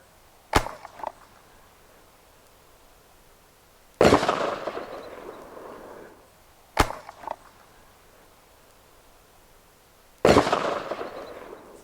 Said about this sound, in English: by the time it was getting close to the ground, probably still 20, 30 feet off the ground, it exploded in the air